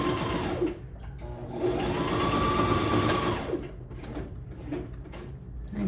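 A sewing machine stitches straight down the side seam of a garment, its motor whirring steadily in bursts that speed up and slow with short pauses between runs, close and clear with no talking.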